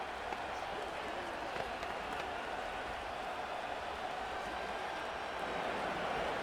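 Stadium crowd noise from the Madden NFL 25 football game, a steady broad roar and murmur of spectators that stays fairly even throughout, with faint clapping in the mix.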